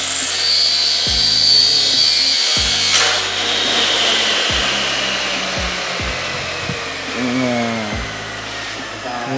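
Power saw slicing through aluminium in repeated short cuts, a loud harsh whine broken by brief pauses between passes, close by with occasional voices.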